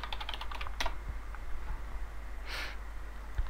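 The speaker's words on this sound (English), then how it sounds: "if we type in Plumber Birmingham" Fast, light keystrokes on a computer keyboard as a search is entered, a short close burst of clicks over steady background hiss, followed by a faint sniff.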